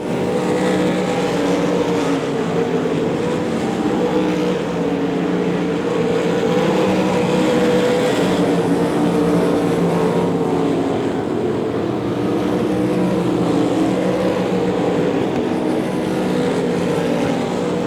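Race cars roaring continuously around the oval at Devil's Bowl Speedway while battling down the back straightaway, a dense, sustained engine drone from the track with no talk.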